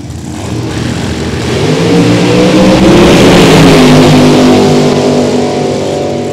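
Supercharged 555-cubic-inch drag racing cars launch down the strip, a loud, close engine roar that builds and holds steady across the run, with no voices.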